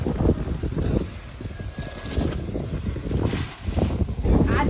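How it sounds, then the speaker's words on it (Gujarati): Strong, gusty wind roars and buffets the microphone without a break, with a muffled voice faintly underneath. "પવન એટલો બધો છે ને ભાઈ તો વાવાઝોડું જેવું છે"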